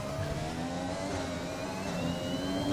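Formula 1 cars racing through Monaco in the F1 2021 game, a continuous high engine whine with tonal gear changes, loud and steady over the short stretch.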